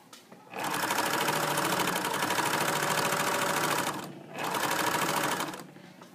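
A sewing machine stitches a fabric hem in two steady, continuous runs of rapid needle clatter, with a brief pause between them, close and moderately loud.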